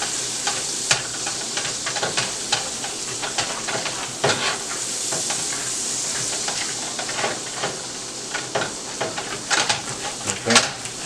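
Flour is stirred into a sizzling pan while making Cajun shrimp and cheesy grits, with a constant hiss of frying overlaid by irregular scrapes and taps of a utensil against the pan, close and fairly loud, no talking.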